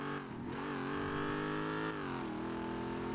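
An off-road truck engine revs during a test drive, a loud sustained rising roar with a brief dip and climb again, close and continuous with no talking.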